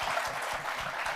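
A debate audience claps in a short burst of dense, steady applause that fills the room from a moderate distance, with no one speaking.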